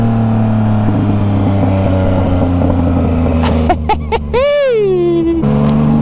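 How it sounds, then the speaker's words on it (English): A Yamaha MT-09 in A mode drones along with loud engine and wind rush. A quick cluster of sharp exhaust pops cracks out partway through, followed by a person speaking over the running bike. "I'll pop up the visor so you can hear the diesel pops."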